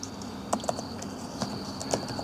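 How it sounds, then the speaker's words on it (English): Fingers tapping numbers into a calculator during fuel-system diagnostics on a 2004 Ford Crown Victoria, a handful of light irregular key clicks over a steady faint hum. "Let me type in 100"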